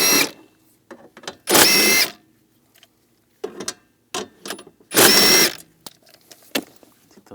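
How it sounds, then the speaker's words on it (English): Center bracket bolts backed out with a 13mm socket on a 2010-2017 Chevrolet Equinox, two loud bursts of a power ratchet or drill, each about half a second long, among scattered clicks and clanks of handling. "We're going to take these bolts out for the center bracket."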